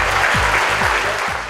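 An audience at a workshop-boutique inauguration applauds steadily to welcome Pierre Sajous, a dense, continuous clapping with low musical notes underneath.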